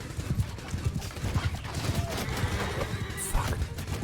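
Horses neigh and whinny amid clip-clopping hooves in a Mount & Blade II: Bannerlord cavalry battle, a loud continuous clash with dense thudding hoofbeats and a sharp high whinny near the end.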